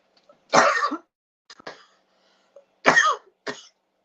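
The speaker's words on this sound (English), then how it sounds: "I started coughing" A few dry coughs in short bursts, two stronger ones separated by smaller throat-clearing hacks, close and otherwise quiet.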